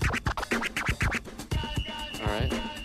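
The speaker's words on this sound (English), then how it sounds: "what we call a scribble and a baby combo," DJ turntable scratching in a scribble and baby combo: rapid fluttering scribble bursts alternating with smooth back-and-forth baby strokes, close and prominent with no voice over it.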